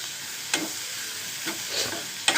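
Amaranth curry with green chillies and coriander powder is stirred in a pan, three soft scraping strokes at steady intervals over a faint background sizzle, close and quiet.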